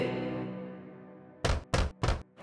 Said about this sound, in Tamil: எனவே அது மீண்டும் குடிசைக்கு சென்று கதவை தட்டியது.